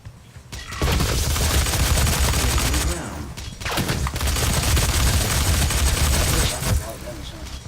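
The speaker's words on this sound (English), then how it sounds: "this is the static cannon" A static cannon in the Doom video game fires in long, dense bursts of rapid shots, two main volleys separated by a short gap, loud and close, with some talk faintly underneath.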